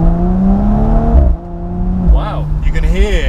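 Audi S5 engine and exhaust heard from inside the car, a loud droning engine note that rises and falls with revs and gear changes, with people talking over it.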